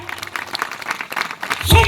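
A crowd claps in a quick, steady rhythm at a Christian church service, with a voice breaking in near the end.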